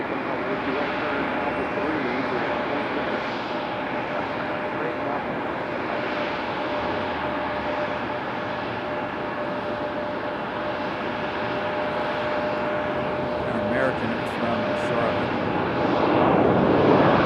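An airliner arriving at Raleigh-Durham International Airport produces a continuous engine roar at a moderate distance, holding steady and swelling near the end, with a talking voice running underneath.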